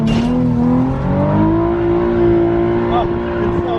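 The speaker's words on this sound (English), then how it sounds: "Oh, one wheel peel is horrible." A drift car revving hard with one rear wheel spinning, a loud sustained engine drone with rising and falling pitch, close by and under talk.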